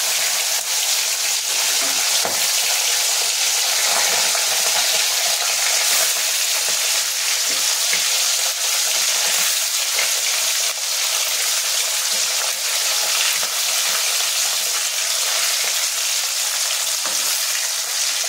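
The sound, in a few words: parshe fish frying in white oil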